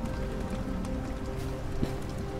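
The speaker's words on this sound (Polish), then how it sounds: "Cały czas tam pada deszcz." Steady rain falls in Detroit: Become Human, a soft, constant hiss of drops on surfaces that keeps an even, moderate level the whole time with no voices.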